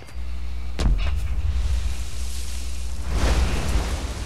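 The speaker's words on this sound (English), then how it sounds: "Let's lob an artillery grenade in there." An artillery grenade lands in Fallout 4 with a heavy, booming strike, then rumbles on, followed by a second swelling barrage of blasts and roaring debris, loud and close, with no talk.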